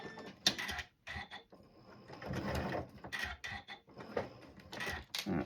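A sewing machine runs a short reverse stitch on fabric for a gathered-skirt pinafore, giving bursts of quick mechanical whirring and clattering that start, pause and restart several times at close range.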